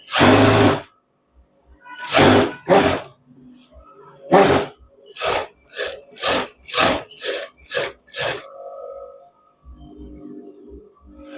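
A sewing machine stitches a shirt seam in short, separate bursts of varying length with brief pauses between them, moderately loud and close, with no one talking.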